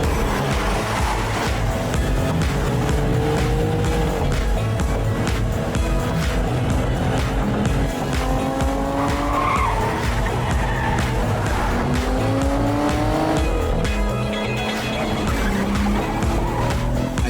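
Sports car revving and pulling away with tires squealing, loud and continuous with rising engine pitch sweeps under a busy movie soundtrack mix.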